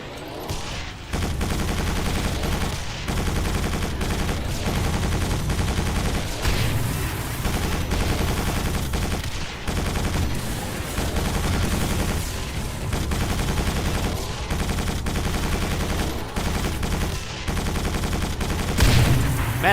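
Machine gun in Quake 4 firing nonstop for nearly twenty seconds, a dense, loud rattle of rapid shots with only a few brief breaks.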